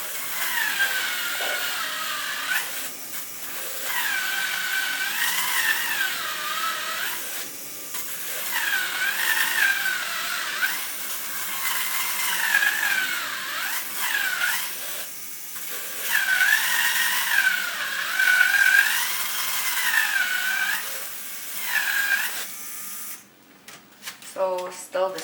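A Lego EV3 craft machine drills holes with a whining motor that rises and falls in repeated cycles, fairly loud and close, with clattering handling toward the end.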